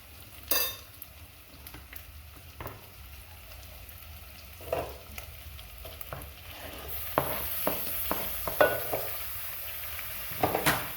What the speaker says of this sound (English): Now it's high time we are going to add in our tomatoes.